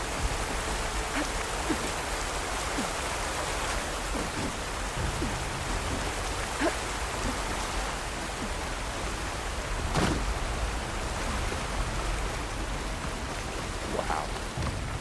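Waterfall rushing in the game Horizon Forbidden West, a steady, dense wash of broadband noise that holds unbroken throughout, with faint scattered clicks and splashes within the roar.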